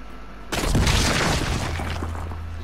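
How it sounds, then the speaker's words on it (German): A bomb explodes in the video game Journey to the Savage Planet, a single sudden loud blast with a broad roar that fades slowly over about two seconds. "Und hier braucht ihr eine Bombe."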